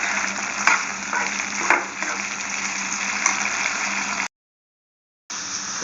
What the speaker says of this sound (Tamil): வெங்காயம், தக்காளி 2த்தையும் ஒன்றா கலந்து நல்ல ஒரு கிளறி விடுங்க